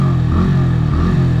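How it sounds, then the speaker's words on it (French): A Yamaha R125 motorcycle engine idles loud and close, with quick throttle blips lifting the revs in short pulses. "tu donnes des coups de gaz comme ça"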